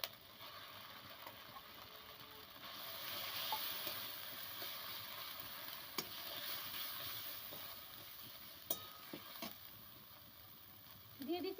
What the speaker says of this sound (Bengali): এবার দিয়ে দিচ্ছি চিংড়ি মাছ বাটা